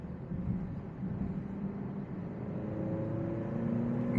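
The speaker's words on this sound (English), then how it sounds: "And now we'll switch it to dynamic mode. RPMs kick up by 1000 RPM right away." A 2024 Alfa Romeo Stelvio Ti engine rises steadily in pitch and loudness as it revs up after being switched into dynamic mode, heard from inside the cabin as a continuous, building drone with no talking.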